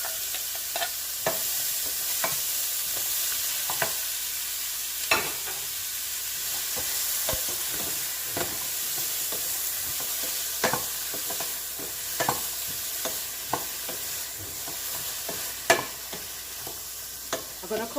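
Onion, tomato, peppers and carrot stir-fried Jamaican style in a pan, a steady sizzle broken by repeated scraping clicks of a spoon stirring at an irregular rhythm, close and moderately loud with no talking.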